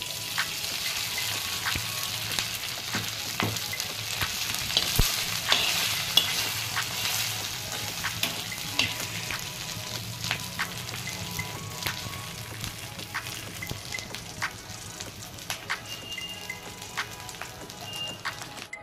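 Idlis roasting in ghee with cumin seeds and urad dal in a pan, a continuous dense crackling sizzle with occasional stirring, steady and close without speech.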